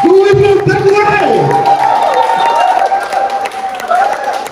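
Launch-event crowd in Abuja clapping and cheering under a loud amplified voice, with a sustained tone and background music filling the room throughout.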